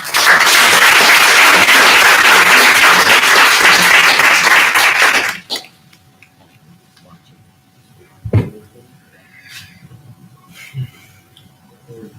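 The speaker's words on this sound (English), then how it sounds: "please give them a round of applause" A university board meeting audience gives a loud, sustained round of applause lasting about five seconds, then it cuts off abruptly into a quiet room with a few scattered thumps and faint voices.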